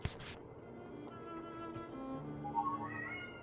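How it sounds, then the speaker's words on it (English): A pet cat meows indoors, heard as a few soft, drawn-out calls alone and fairly faint, with no talk. "My cat's meowing."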